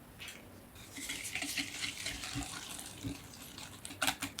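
Milk pours and splashes into a bowl of panettone dough ingredients with a soft, continuous trickle, ending with a few light clinks, no voices.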